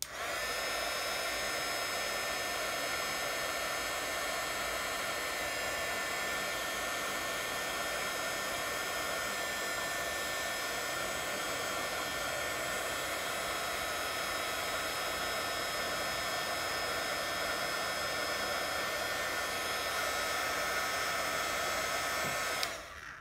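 A craft heat tool blows continuously beneath a card for a papercraft kit, a steady loud whooshing hum that holds unchanged for over twenty seconds, close up and alone, before cutting off at the end.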